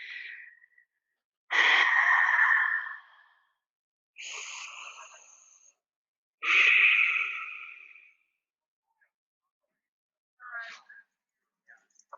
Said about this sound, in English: Inhale to the count of 3. Exhale to the count of 5.